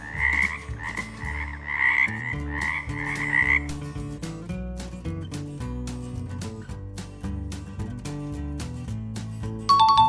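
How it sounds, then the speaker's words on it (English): A frog croaks in a quick repeated rhythm over a loud backing of bouncy music, the croaks falling away partway through as the music carries on with a chime near the end. "that's right, it was a frog."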